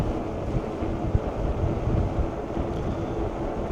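Wind roars across the microphone while riding a SAMEBIKE RS-A02 Pro electric bike into a headwind, a steady, loud, low rumbling buffet with occasional thumps, and no one speaks.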